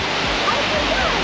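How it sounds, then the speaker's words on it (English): Waves wash in on a Cornish beach, a broad, steady rush of surf at close range, with a voice faintly present beneath the roar. "Watch out, the water's coming in, you're gonna get wet."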